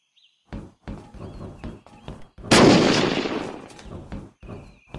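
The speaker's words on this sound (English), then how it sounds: "That was my last nade." A grenade explodes during a raid on a metal base in the video game Unturned: one loud, broad blast with a lingering rumbling tail, set among several sharp, gunshot-like game thumps before and after.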